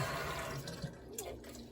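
Water gushes steadily from the bottom drain of a domestic water heater being flushed, a continuous broadband rush with faint splashes and drips, close by and fairly quiet throughout.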